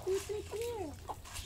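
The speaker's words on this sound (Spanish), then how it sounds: "Y vemos a una tía que está muy apurada aquí con los pollos, gallos y gallinas." Farmyard chickens and roosters clucking close by, a few short pitched clucks followed by a longer rising-and-falling call over a quiet outdoor background.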